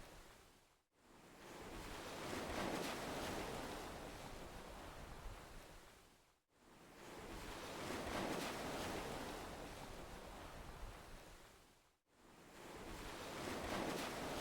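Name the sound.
ocean waves coming and going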